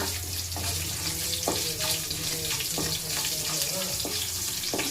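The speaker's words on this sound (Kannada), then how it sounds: "ನಾನು ಆಯಿಲ್ ಹಾಕಿದ್ದೀನಿ ನೀವು ಆಯಿಲಲ್ಲೇ ಹುರ್ಕೊಳ್ಳಿ ಚೆನ್ನಾಗಿರುತ್ತೆ" Coriander seeds roasting in oil over a low flame for a village-style field bean sambar: a steady close sizzle with several sharp stirring scrapes at intervals, no talk.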